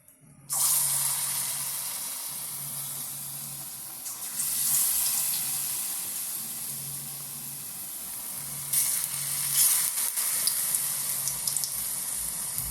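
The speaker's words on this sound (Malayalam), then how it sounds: "ചൂടാക്കാൻ വെച്ചിരിക്കുന്ന എണ്ണ അതിലേക്ക് കുറേച്ച് ഇട്ട് കൊടുക്കാം" A steady, close hiss of puffed rice sweet pakkavada batter frying in hot oil, with brief surges in intensity, runs throughout.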